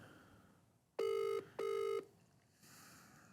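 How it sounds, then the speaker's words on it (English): A telephone rings twice in two steady electronic bursts with a short gap, fairly loud over a quiet room. "It's ringing Genji there."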